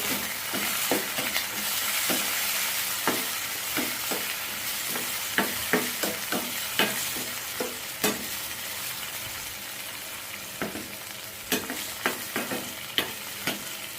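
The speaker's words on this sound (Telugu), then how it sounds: "కరివేపాకు అని వేసి దోరగా వేపుకోండి" Curry leaves and green chillies fry in a ghee tempering for pongal, a low steady sizzle broken by many sharp clicks and scrapes of a spoon against the pan, close and unaccompanied by speech.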